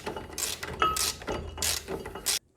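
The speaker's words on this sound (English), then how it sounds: "Now I can continue with my regular ratchet." Hand ratchet turning caliper bracket bolts on a 2003 Opel Corsa C during a front brake rotor and pad change, several bursts of rapid metallic clicking separated by short pauses, close and clear with no talk.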